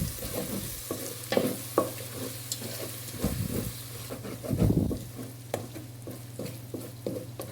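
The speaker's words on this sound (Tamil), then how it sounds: "தயிர் சேர்த்துட்டு நல்லா மிக்ஸ் பண்ணி விட்டுக்கலாம்." A biryani masala mixed with curd is stirred and sautéed in a pan. Soft sizzling continues under repeated scraping spoon strokes at an uneven rhythm, heard up close with no talking.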